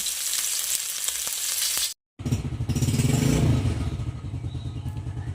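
Tilapia and pork belly frying in oil, giving a loud, dense, continuous sizzle and crackle that cuts off briefly and then resumes with a heavier bubbling rumble.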